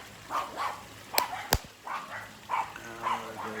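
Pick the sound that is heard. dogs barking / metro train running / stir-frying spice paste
dogs barking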